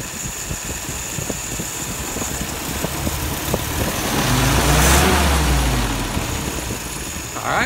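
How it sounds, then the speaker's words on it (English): A car engine revs through an acceleration stumble test, a loud, rough mid-pitched roar that swells to a peak and eases off, with a faint ticking at the start and no talk over it. "we're gonna do that acceleration stumble test"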